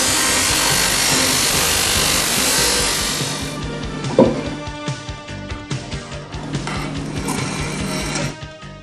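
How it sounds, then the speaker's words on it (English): A plane blade is ground to a 25-degree angle while dressing timber: a loud, steady abrasive grinding hiss for several seconds, then rougher, intermittent scraping strokes with one sharp knock. "The blade is ground at an angle of 25 degrees."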